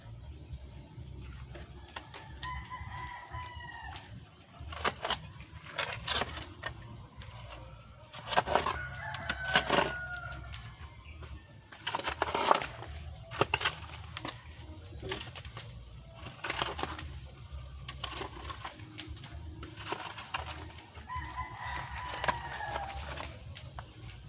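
Roosters crow several times at a moderate distance, with scattered clucking and other bird calls against a quiet outdoor background.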